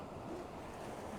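Sea waves wash on the shore on an early morning, a continuous low, broad roar mixed with wind buffeting the microphone, with no distinct individual breakers.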